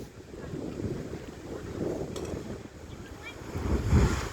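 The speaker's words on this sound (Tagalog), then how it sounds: "Lakas ng hampas ng alon nun, kaya ganun kalakas yung kalabog." Ocean waves surging and crashing into the Kiama blowhole on the coast of NSW, Australia, a rumbling wash under steady wind noise that swells louder toward the end.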